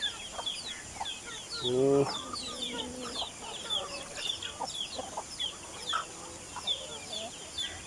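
Chickens cluck softly and repeatedly nearby, one louder squawk standing out, amid scattered birdsong and faint background chatter.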